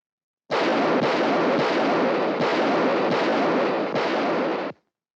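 Sustained, loud burst of gunfire in a film scene, rounds fired at a bulletproof jacket, a rapid unbroken volley lasting about four seconds with a few slight breaks, then abrupt silence.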